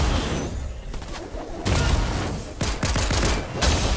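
Gunfire aimed at the player in Fortnite, bursts of rapid shots crackling in dense clusters across the whole stretch, loud and close, with no talking.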